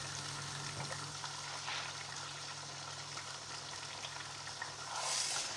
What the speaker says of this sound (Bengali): এবার এটাকে একদম নেড়ে নেড়ে ভুনে ভুনে ভাজতে হবে এই ঘিয়ের সাথে